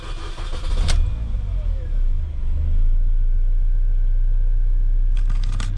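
A Mini Cooper with a repaired fuel system rumbles close by, a steady low engine drone running throughout after a brief sharp clatter near the start, with a burst of higher rattling toward the end.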